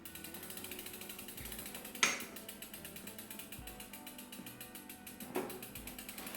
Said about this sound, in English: Then you grab your 15mm spanner and just torque her up.